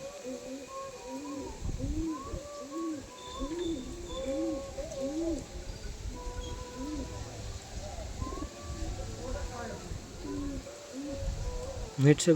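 Pigeons coo in a repeated, rhythmic series of soft, rounded calls, moderately near and steady across the stretch, with some low background rumble and a louder burst at the very end.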